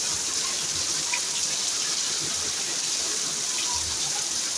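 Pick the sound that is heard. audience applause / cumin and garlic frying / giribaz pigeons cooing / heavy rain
heavy rain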